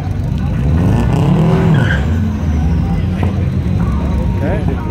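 A Subaru WRX STI race car and a Mitsubishi Evo roar loudly and steadily, with engine tone rising and shifting, under people talking.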